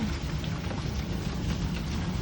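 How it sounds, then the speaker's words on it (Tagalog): Steady rain falling during a hailstorm, a dense even patter with a low rumble beneath, no voices present. "Wala, nalusaw dahil umuulan."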